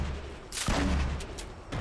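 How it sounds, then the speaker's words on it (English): Grenade launcher explosions in the video game Fortnite give a short, fairly faint burst of muffled, crackling booms that overlap in quick succession. "And this game's giving me a ton of grenade launchers."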